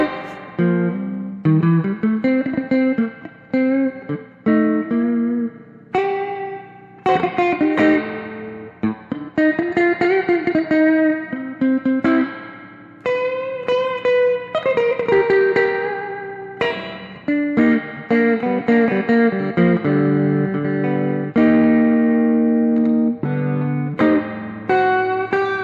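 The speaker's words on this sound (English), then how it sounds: "it's interesting at ultra high reverb levels." Electric guitar notes and chords ring through a heavy, splashy spring reverb set to a very high level, each one trailing a long, washy tail, loud and close.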